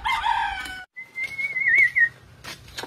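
A rooster crows close by, a strained rising call followed by a wavering sustained note, with a few short clucks and knocks around it.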